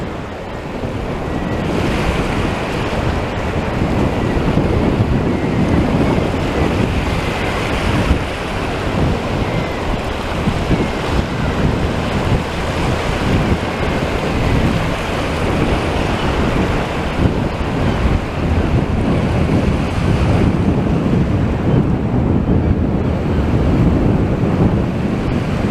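Sea waves roll in at the water's edge on a windy Blackpool beach, a loud continuous wash of surf mixed with heavy wind buffeting the microphone throughout.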